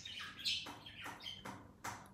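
A pet bird looking out a window gives several short raspy squawks in a loose rhythm, close and faint against a quiet room.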